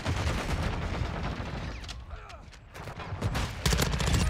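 Modern Warfare 2 SMG firing in dense rapid bursts, loud and close, with a brief lull midway before heavy shooting resumes, no voices heard.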